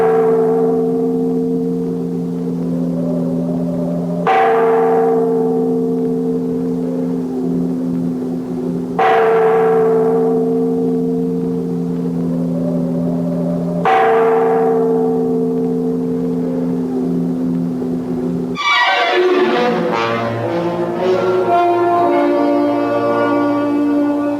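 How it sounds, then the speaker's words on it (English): A large church tower bell, pulled by its cord, tolls loudly four times with long ringing decays between strokes, then a final clanging burst with rich overtones. "Make that bell ring loud enough to wake the living as well as the dead."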